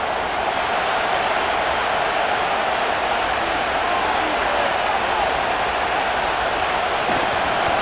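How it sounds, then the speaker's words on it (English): Stadium crowd noise from a Madden NFL 25 football video game, Seattle Seahawks versus Arizona Cardinals, a dense, constant roar of cheering with no break or rise across the stretch. "And they're going to hear it from this crowd."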